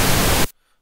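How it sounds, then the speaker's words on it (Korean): About half a second of bright, hissy broadband noise is generated in Audacity as white noise and then pink noise, steady and loud, before it cuts off sharply into silence. "앞은 화이트 노이즈, 여기 이제 핑크 노이즈예요"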